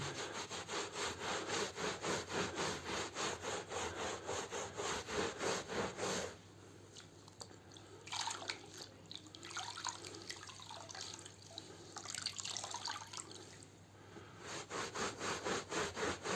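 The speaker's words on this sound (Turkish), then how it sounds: "Şöyle bir kere daha sileceğim." A damp tulle cloth wiped over a carpet to lift stains makes rhythmic, fast rubbing strokes for about six seconds, then quieter intermittent swishes and splashes of water as the cloth is rinsed, before the rubbing resumes faintly.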